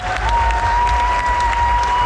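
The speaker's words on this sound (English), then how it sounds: "So how about another big round of applause for the Irish Dance Association of Columbus" Audience at an Irish dance festival applauding a dance association, a loud, dense burst of clapping from a nearby crowd with a steady tone ringing underneath.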